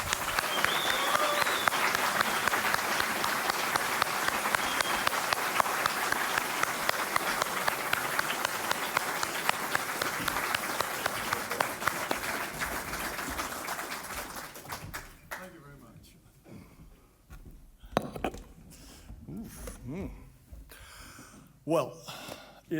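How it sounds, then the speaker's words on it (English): Conference audience gives Jared Taylor a sustained round of applause, dense loud clapping for about fifteen seconds that then thins out into scattered claps and quiet room noise. "So please give him a huge round of applause"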